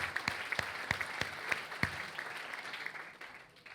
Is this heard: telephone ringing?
no